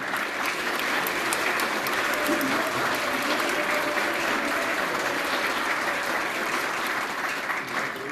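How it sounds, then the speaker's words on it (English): Sustained audience applause at a school awards ceremony, dense and steady clapping from a crowd lasting throughout, with no talk over it. "Give them another round of applause"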